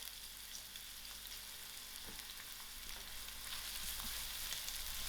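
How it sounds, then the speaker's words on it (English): Onions frying in a pan give a soft, continuous sizzle and crackle, fairly quiet and steady, with a faint low hum beneath and occasional small pops. "Firstly, I'm going to add in my onions. I will allow this to fry."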